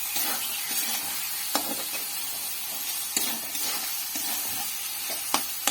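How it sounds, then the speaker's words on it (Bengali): Fish head frying with spices in a pan for muri ghonto, a steady close sizzle with occasional sharp scrapes and knocks of the stirring spoon, no talk. "এটিকে ভালোভাবে নাড়াচাড়া করে নেব, যাতে মশলার গন্ধটা থেকে থাকে"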